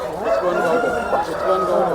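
Chickens cluck and crow close by at a busy village weekly market in Gokavaram, with constant mixed bird calls and people talking in the background.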